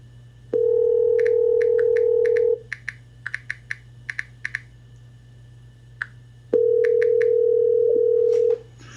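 A telephone call rings before going to voicemail: a long, steady ringback tone, a quick run of keypad beeps, then a second identical ring, loud and clean with no voices.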